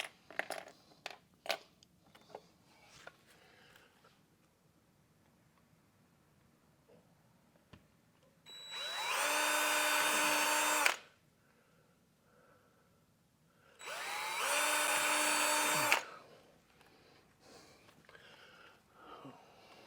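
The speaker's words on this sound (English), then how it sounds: "And then we can go ahead and drill." A power drill bores mounting holes for smart blinds in two loud, close, high-pitched whining bursts of about two and three seconds, separated by quiet, with scattered handling clicks and rustles before them.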